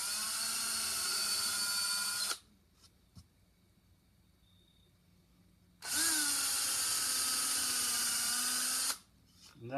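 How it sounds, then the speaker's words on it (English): A small, fine drill bores a pilot hole during the restoration of a vintage Mead belt sander, running in two steady, loud high-pitched whining bursts separated by a few seconds of near silence. "I'm just putting a really small fine drill in here, and I'm just going to use it just to put a little bit of a pilot hole in there."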